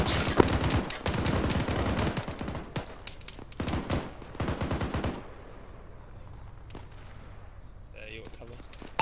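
Bursts of automatic gunfire and scattered single shots in an ArmA 3 military simulation convoy exercise, dense and loud for about five seconds, then fading to sparse distant cracks over a low rumble.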